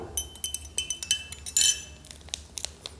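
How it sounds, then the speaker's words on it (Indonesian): A metal spoon clinking against a glass while stirring milk powder into warm water, a steady series of light rhythmic taps and rattles, close and clear with no talking. "Kemudian kita campurkan dari sedikit demi sedikit sambil kita aduk."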